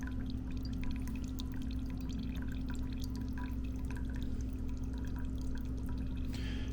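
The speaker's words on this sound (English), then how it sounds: "you can see it bubbling down there, but you don't get in a hurry" Steady low rumbling bubble with scattered small pops and drips, a continuous gurgling of coffee percolating in a GSI Outdoors Rocket backpacking percolator, with no talk.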